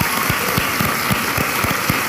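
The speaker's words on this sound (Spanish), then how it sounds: "El aplauso para nuestro campeón" Studio audience applauding for champion Puerto Rican boxer Sniper Pedraza, a dense, steady wash of clapping with no voices over it.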